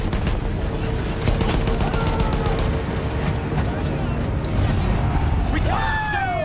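Battlefield 1 battle with rattling gunfire and dull grenade blasts under constant loud combat noise, with shouting voices and whistling sounds near the end.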